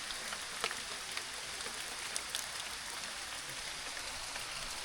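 Rain falls steadily on a rocky forest trail, a continuous soft patter with scattered close drops ticking on stone, no voices heard.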